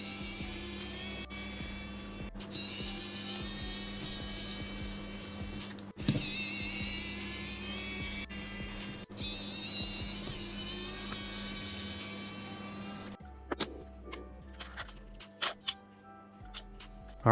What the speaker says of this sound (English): We're going to remove these 4 screws.